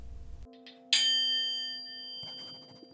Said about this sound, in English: when you hear the bell, just put pen to paper and don't stop